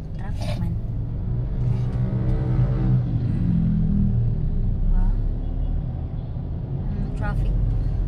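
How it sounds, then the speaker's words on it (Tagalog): Evening road traffic around a provincial hospital in Cebu rumbles steadily from inside a vehicle, with engine drone and passing cars, while a voice talks over it. "Traffic man."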